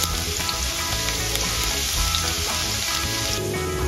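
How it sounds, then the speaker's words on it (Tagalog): Garlic sautéing in oil in a pan for adobong balut, a loud, close, continuous sizzle and crackle with no talking. "Now, we start sauteing na po our garlic para po dun sa ating marinate na balut"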